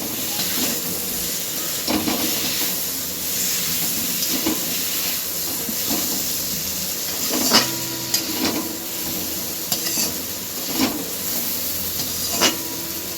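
A spoon stirs chili flakes through a steadily sizzling, hissing pan mixture, with occasional scraping clinks over the frying noise, close and continuous.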